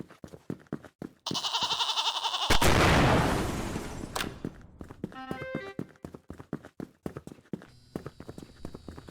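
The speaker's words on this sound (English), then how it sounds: "Frick you, goat." Goat in a looping backrooms-style video game, with hooves clip-clopping in a steady rhythmic walk, a loud bleat partway through, and other tonal game sounds over the footsteps.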